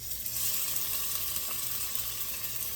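Chopped tomatoes, onions and garlic sizzle in a pan for birria tacos, a steady bright hiss of frying with no voices.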